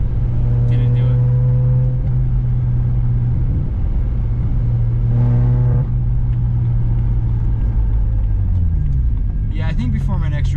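A BMW 335i drift car idling and revving, its engine a loud steady drone with a sharp rev midway and another climbing rev at the end, with no one speaking.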